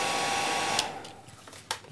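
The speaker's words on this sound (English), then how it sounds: "you can get a hairdryer and see how they're sitting" Hairdryer blowing warm air over fly-tying fibres on a Jock Scott Temple Dog tube fly, a steady airy roar that drops away partway through, with brief bursts of rustling.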